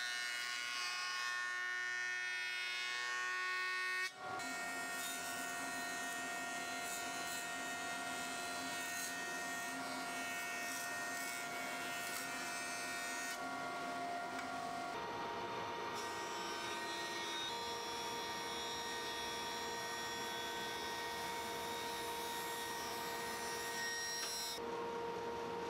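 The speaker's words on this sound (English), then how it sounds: "So I'll first start by milling a flat face and flat edge at the joiner" A jointer flattens poplar boards in a woodshop: quiet until a sudden start, then a steady loud machine whine with cutterhead hum and rough milling noise running continuously to the end, with no talking.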